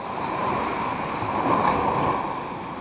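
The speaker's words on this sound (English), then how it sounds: "I'm gonna wait for one of these big waves to come up" Big ocean waves break and then recede on a shore in a humid location, a broad, close roar of surf that swells and fades with a little wind noise and no voices.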